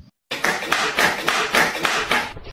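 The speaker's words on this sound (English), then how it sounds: "I can clap." A single person, an animated character, claps their hands about five times in a steady, even rhythm, each clap crisp and close, after a brief moment of silence.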